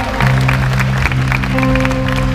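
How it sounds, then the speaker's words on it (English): Crowd applause at a live band concert at Baybeats 2015, a dense wash of clapping under sustained musical tones from the stage, loud and continuous for a couple of seconds. "applause."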